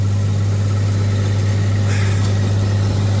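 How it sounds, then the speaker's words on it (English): A small 24-horsepower Isuzu diesel engine drives the hydraulic pump and generator on an autonomous irrigation machine, idling at a loud, steady low drone with no change in pace throughout. "this machine here is powered by a little 24 horsepower Isuzu diesel engine"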